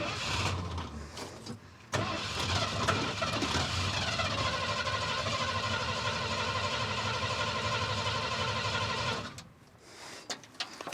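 A 1976 Ford F250 crew cab truck, abandoned for 20 years, catches and runs with a steady, loud engine roar for about seven seconds before dying out, with brief mechanical clatter before and after.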